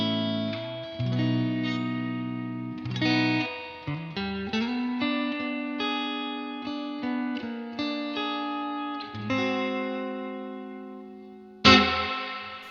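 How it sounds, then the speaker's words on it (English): An electric guitar played through a UA Dream '65 amp emulation modeled on a Fender Deluxe Reverb, with lush reverb: sustained chords and single notes ring out and decay smoothly, followed by one last sharp strum near the end. "That is possibly one of the best reverbs I've ever heard."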